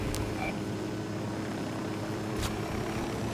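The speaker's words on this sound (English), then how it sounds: "Didn't see the damn helicopter hovering above them." Steady droning rotor noise from a helicopter hovering in a tactical shooter game, constant and moderately loud, with a couple of faint clicks on top.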